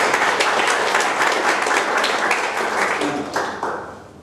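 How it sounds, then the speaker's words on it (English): An audience at a folk history book launch in Brisbane claps for the MC, a dense burst of applause that thins out and fades over a few seconds. "yes, give her a clap."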